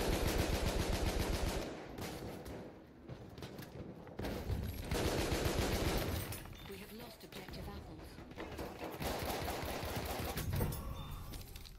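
Rapid gunfire from a weapon in the video game Battlefield 1: dense, sustained automatic bursts filling the clip, with brief lulls between strings of shots, loud and close.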